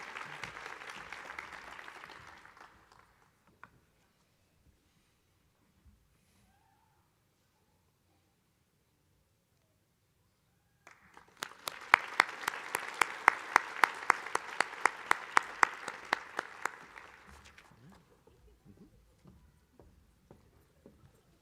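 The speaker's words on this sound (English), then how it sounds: "Let's give these fine young men and women another round of applause." Audience applause at a University of North Dakota physician assistant white coat ceremony: a short burst fading out, a long silence, then a second, louder round of clapping that swells and tapers off, heard alone.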